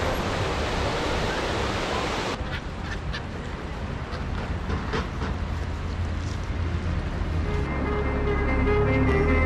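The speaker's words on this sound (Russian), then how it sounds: "Вот такой тут ручей." A small stream flows past the sandy shore of the Anapka river at Anapa, giving a steady, close rushing and gurgling of water that stays continuous throughout, with no voices.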